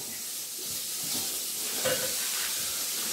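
Pancetta frying in a pan while being stirred, giving a steady, moderately quiet sizzle and hiss with faint scraping movements throughout.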